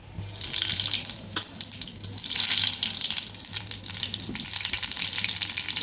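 Red chili, cumin and mustard seeds frying in hot oil for an amaranth leaf dish, a steady loud crackling sizzle throughout, close up with no voices.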